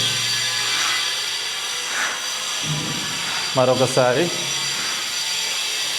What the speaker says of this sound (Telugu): చుట్టూ కన్స్ట్రక్షన్స్ నడుస్తున్నాయి. సో సౌండ్ అనేది వినబడుతుంది